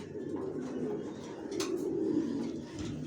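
A young male-and-female pair of racer pigeons hatched in 2023 coo faintly and steadily over a constant background hum, with no talking.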